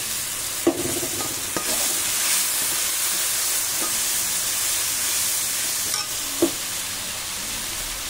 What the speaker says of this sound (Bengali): পেঁয়াজটা ভাজা ভাজা হয়ে গেছে, এখন আমি মশলাটা দিয়ে ভালো করে কষিয়ে নেব।